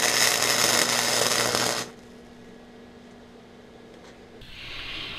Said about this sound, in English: Start at the front and drag that back.